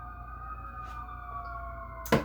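A steady siren wail with sliding pitched tones, moderately distant, ending in a brief sharp burst of noise.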